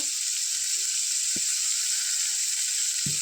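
Seeds dropped into hot oil in a pan for a home-cooked fish and greens dish, giving a steady, bright sizzle with a few soft clinks.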